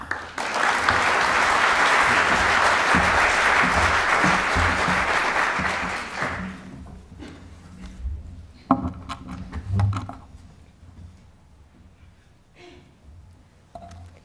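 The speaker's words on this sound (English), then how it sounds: "invite Anna Macdonald with a warm round of applause to take the floor" An audience at a talk on the arms trade claps to welcome a speaker to the floor, a loud even burst of applause for about six seconds that stops abruptly, leaving faint rustling and shuffling.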